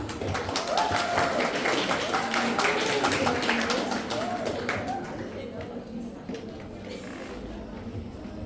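An audience at a school literary café performance claps steadily and loudly, dense overlapping applause that gradually thins and fades, with voices audible in the mix.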